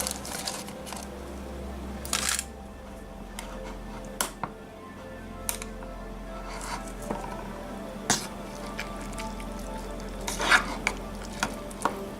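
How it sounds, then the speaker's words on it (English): Teriyaki noodles stirred in a metal canteen cup over a camp stove, with soft scraping strokes and light sizzling at a steady moderate level, broken by a few sharper clinks of the utensil against the cup. "stir it up a little bit"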